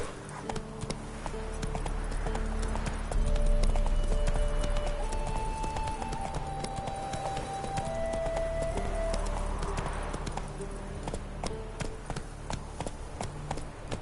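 Horse hooves clip-clop in a steady trotting rhythm across a PS4 video game scene, with a light musical drone and occasional game effects underneath and no voices.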